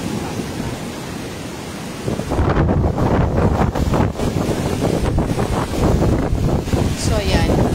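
Strong wind gusts at a beach shore, with heavy rumbling buffeting on the microphone that starts suddenly and roars on continuously, mixed with the wash of the nearby sea.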